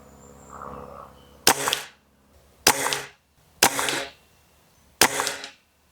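A TX200 spring air rifle fires pellets at a target: four sharp, loud shots at intervals of roughly a second, each trailing a brief spring twang, with a soft handling noise just before the first.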